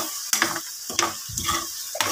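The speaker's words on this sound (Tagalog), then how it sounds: "Lutuin muna natin ng maayos yung bagoong." Shrimp paste (bagoong) cooking in a frying pan, giving a steady sizzle broken by several scraping stirs of a utensil against the pan, close and fairly loud, with no voices.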